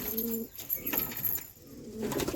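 Pigeons coo softly while bathing in turmeric water on a hot day, a few low burbling calls separated by brief pauses, faint and close with no talking.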